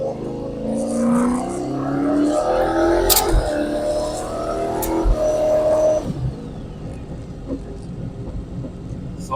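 Race car engine pulling hard, its rising roar climbing through the gears from up close before easing off into a lower drone.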